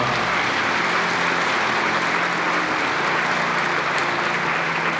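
A large congregation applauds newly ordained pastors at a church ordination ceremony, a dense, steady roar of clapping filling the hall at an even level for about five seconds with no speech on top.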